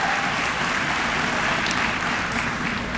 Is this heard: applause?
yes